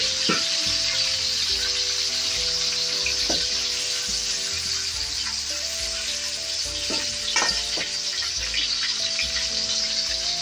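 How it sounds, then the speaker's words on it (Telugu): Tomatoes and onions fry in a pan for a ram's head curry, giving a loud, dense sizzle that runs throughout. Intermittent stirring clatters over it, close up and with no voices. "టమోటా బాగా మెత్తగా ఫ్రై అయ్యేదాకా ఫ్రై చేసుకున్నాము."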